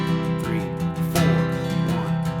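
Acoustic guitar strummed in a steady 16th-note rhythm with accents falling on beats two and four, close and full, with chords ringing continuously under the strokes.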